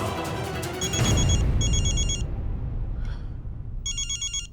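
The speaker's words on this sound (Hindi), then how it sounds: "अनमोल का ही फोन है, ले लो।" A telephone rings in repeated electronic bursts, with a pause and then another burst, over a low rumble of background noise.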